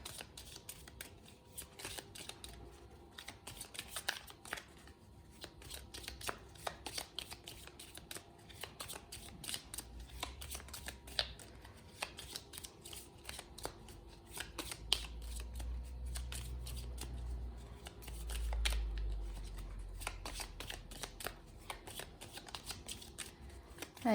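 Tarot cards being shuffled by hand, a steady stream of quick crisp riffling clicks that stay close and fairly quiet for a long stretch, with a soft low rumble underneath and no talking.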